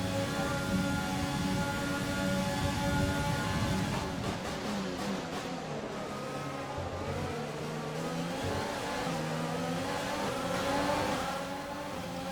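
Formula 1 race cars at Monza in a racing video game: high engine whine with shifting harmonics, revving and gear changes from several cars, continuous and steady throughout with no voices.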